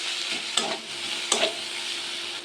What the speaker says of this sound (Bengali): ধনেপাতা কুচি দিয়ে দিলাম আর একটু ভালো করে কষিয়ে নেব।